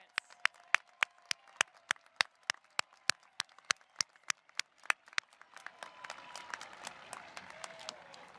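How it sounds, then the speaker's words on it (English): Single sharp claps repeat at a steady, even rhythm at an engineering commencement, fairly faint in a quiet hall, then give way to a softer spread of scattered clapping and murmur. "Please join me in applauding these graduates."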